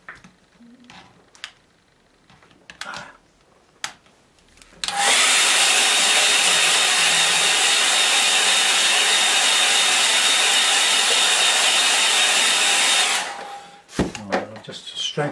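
A hair dryer blows steadily on a wet watercolour painting, a loud, even whoosh lasting about eight seconds alone, with quiet brush and table sounds before and after.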